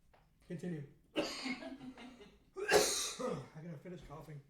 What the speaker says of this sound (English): gotta finish coughing.